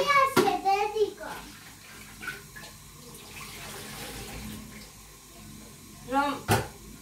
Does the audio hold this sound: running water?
yes